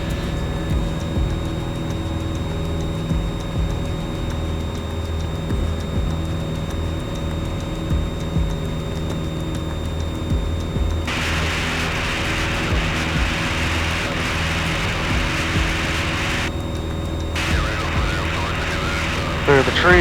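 A light plane's engine drones steadily at high power through takeoff and climb, a loud continuous cabin hum with a brighter wash of wind noise joining partway through.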